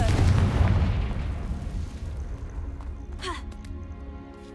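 A Confringo fire-blast spell in Hogwarts Legacy lands as a loud booming explosion at the start, its rumble decaying over several seconds into quieter game sounds with a few small clicks.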